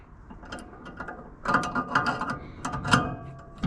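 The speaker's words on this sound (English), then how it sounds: "Let me tighten up this this wrench a little bit too" A ratchet wrench is cranked during a pressure washing truck build, giving quick, close clicking in short bursts that grow louder partway through, with no talk over it.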